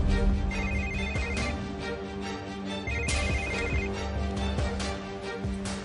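A phone's incoming-call ringtone plays its melodic pattern twice, loud and close, over a steady musical background.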